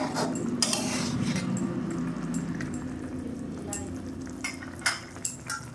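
Gang mourola fish with mustard and slit green chilies stirred in a pan, scattered metallic scrapes and clinks of a spatula over a low cooking hiss, getting sharper toward the end.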